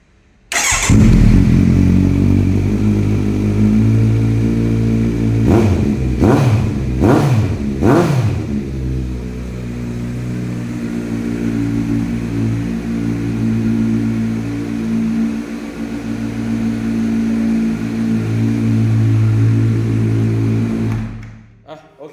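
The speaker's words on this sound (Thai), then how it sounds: "ฟังเสียงท่อกันหน่อย" A 2017 Kawasaki Z900SE motorcycle idles loudly nearby with a deep burbling exhaust, then the throttle is blipped four times in quick succession, each rev rising and falling.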